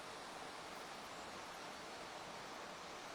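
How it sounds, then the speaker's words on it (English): A river flows through woods, giving a faint, steady rush of running water that stays even and unbroken, with no voices over it. "it is lovely to hear the river, isn't it?"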